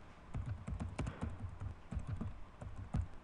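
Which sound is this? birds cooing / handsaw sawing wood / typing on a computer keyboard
typing on a computer keyboard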